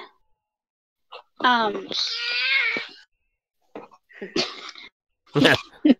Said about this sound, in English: The cat wanted to talk.